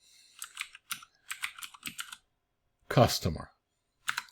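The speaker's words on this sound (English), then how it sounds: "in lowercase, I'll type in the name of the table" A computer keyboard typed in short bursts of quick clicks, near and clear, while a voice speaks a single word partway through.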